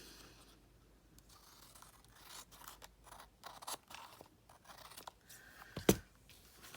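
Scissors trim paper for a handmade petite journal, soft close snips and rustles spread over several seconds, ending in one sharper, louder cut near the end.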